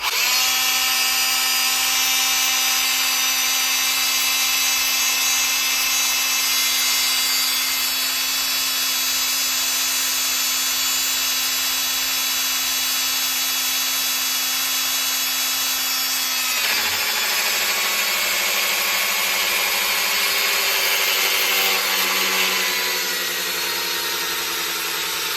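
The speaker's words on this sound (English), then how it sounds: "Let's hit the drill and just see how long it takes to bring us some oil pressure." A cordless drill spins the oil pump of a Rover P6 3500 V8 on a dyno, a steady high-pitched motor whine held for long stretches that drops in pitch and roughens partway through as the battery sags.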